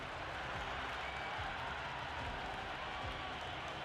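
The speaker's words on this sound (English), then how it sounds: "It's almost palpable, the excitement emanating from this crowd at the moment." Cricket stadium crowd during an IPL match between CSK and MI, a steady, dense roar of cheering and applause filling the whole stretch with no break, distant and diffuse rather than close.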